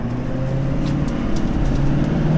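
A 2021 Chevy Silverado 6500 HD heavy-duty truck accelerates, a loud steady engine drone with a low rising tone, heard continuously from inside or close to the truck.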